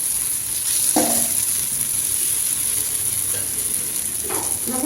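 Egg paniyaram batter frying in oil in a paniyaram pan, giving a steady hissing sizzle throughout, with a couple of brief scraping stirs as the pieces are turned.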